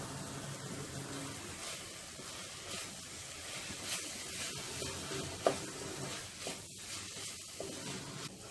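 Salt, coriander powder and chili powder being stirred into a methi egg curry in a pan, a soft steady sizzle with light scraping strokes throughout, quiet and close, and one sharp click partway through, with no voices.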